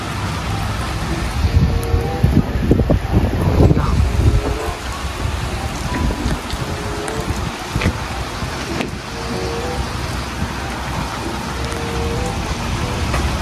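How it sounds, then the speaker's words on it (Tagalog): Heavy rain driven by wind pours down steadily during a storm in Canada under a tornado warning. The downpour is loud and close, a dense unbroken roar with gusty swells and no voices. "Ayan, malakas-lakas na yung ulan."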